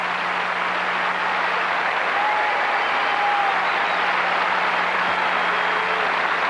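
Steady, dense applause from a large tennis crowd at the 1985 Canadian Open semifinal, a continuous wash of clapping holding at even loudness throughout, with no clear speech on top.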